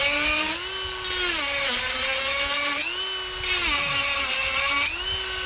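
A Dremel rotary tool grinds the teeth of a chainsaw chain, making a loud, high whine that rises and falls in pitch as it touches each tooth in turn. The sound runs continuously and no one talks.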